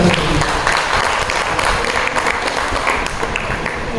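A crowd at a poetry gathering applauds a guest poet with loud, continuous clapping, many hands at once, close and steady from start to finish with no talk over it.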